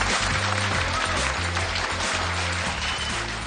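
A crowd applauds a magician's act, a sustained wash of clapping layered over steady background music with low rhythmic tones, continuing at an even loudness.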